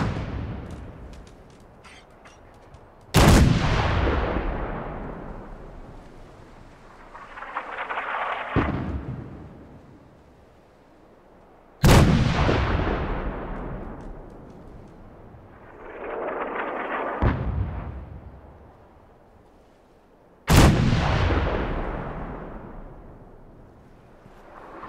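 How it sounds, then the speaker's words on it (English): Heavy artillery fire in the video game Fallout 4, three loud deep booms spaced several seconds apart, each rolling away in a long decaying rumble, with fainter distant blasts between them. "Is this artillery non-stop?"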